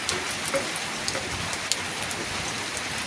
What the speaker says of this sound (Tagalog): Ang lakas ng ulan dito, hindi tayo makaporma.